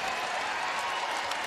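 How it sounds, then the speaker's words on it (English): Basketball arena crowd at a women's pro game applauding steadily, a dense continuous wash of clapping. "Crowd applauding the effort there of Brittany Griner."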